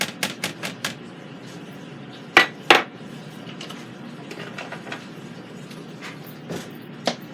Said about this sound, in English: I'm going to toss these wings and see if I need another tablespoon